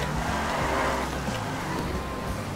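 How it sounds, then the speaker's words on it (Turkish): A Z-Type car drifting in the GTA 5 video game, its engine roaring continuously with tire noise, loud and close throughout. "Bakalım son arabamız nasıl drift yapıyormuş."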